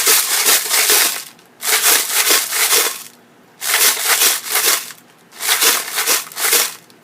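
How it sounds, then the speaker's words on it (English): A homemade shaker filled with assorted dry ingredients, shaken in four loud rattling bursts with brief pauses between them, close and harsh, with no talking over it. "So I tried every single one of our ingredients to put into our shaker."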